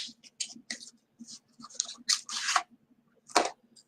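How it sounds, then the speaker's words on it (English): Crisp papery riffling and flicking of oracle cards in short bursts, a quick series of shuffles with brief pauses and one sharper snap near the end, close by. "Let me shuffle these real quick."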